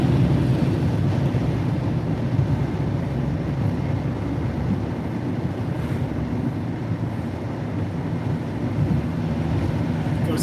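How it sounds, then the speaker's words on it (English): Strong wind roars across a coastal bluff in Rockaway, Oregon, during a windstorm, a dense, steady rumble of buffeting gusts and mic wind noise with surf-like wash, loud and continuous throughout. "The wind right here on this bluff, though, is just nuts."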